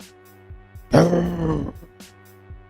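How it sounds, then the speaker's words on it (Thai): A deep, growling roar rises suddenly and rumbles for about a second before trailing off, with faint low thuds around it. "มังกรได้ปรากฏกายขึ้นบนท้องฟ้าพร้อมกันกับเสียงคำราม"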